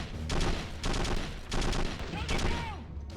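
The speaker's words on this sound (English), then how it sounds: "Let's go start firing at him." In the military video game Conflict: Desert Storm, several rapid bursts of automatic gunfire crackle close by, separated by short gaps, while a voice talks underneath.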